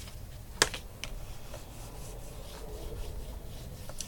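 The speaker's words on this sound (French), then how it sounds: "je repasse là où j'ai collé les petits bords" Glued edges of a paper tricorn card are rubbed down by hand, a soft, close scraping rub with a sharp tap near the start and faint light brushing strokes after, quiet and without speech.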